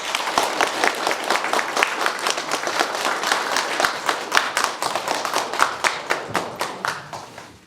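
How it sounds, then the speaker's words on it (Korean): Large audience at a literary award ceremony breaks into sustained, dense applause, many hands clapping steadily throughout with individual claps standing out near the end as it thins. "큰 박수 부탁드립니다."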